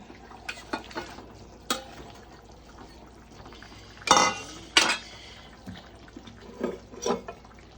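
Chhana koftas are dropped into a simmering vegetarian curry in a pot, bringing soft bubbling broken by several sharp clinks and knocks of a spoon against metal and a couple of louder splashy bursts.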